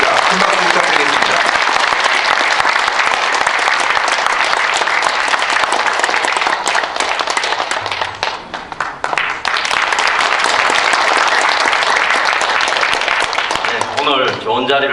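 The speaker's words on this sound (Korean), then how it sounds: "큰 박수 부탁드리겠습니다" A press conference audience gives loud, dense applause to welcome Hwang Jang-soo for a special lecture, continuous clapping that dips briefly midway and then swells again, with a voice emerging near the end.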